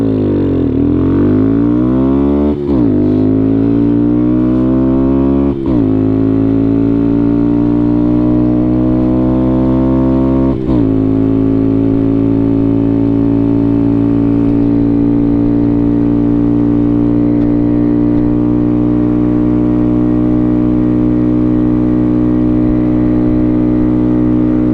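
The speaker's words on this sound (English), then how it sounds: "I'm going to go wide open throttle, and we're going to see what's going to go on here." Honda Grom motorcycle held at wide open throttle during custom tuning, a loud steady high-revving engine drone with a few sharp dips or shifts, close and continuous with no talk.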